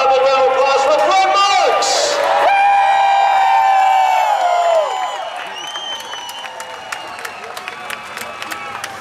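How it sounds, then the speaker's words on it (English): Fans in victory lane at Selinsgrove Speedway cheer and whistle loudly for the sprint car race winner, shrill whoops over crowd noise that fades into lighter scattered clapping. "How about a big round of applause for Brent?"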